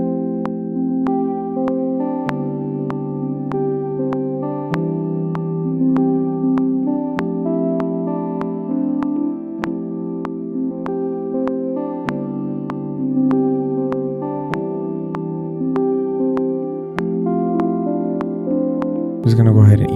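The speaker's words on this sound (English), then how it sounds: "I'm going to go ahead and use this sound called Soft Synth Bells." A soft synth bells patch from Logic's Alchemy plugin plays gentle, sustained bell-like chords in a slow repeating progression, alone and clear, ending with a brief burst of noise.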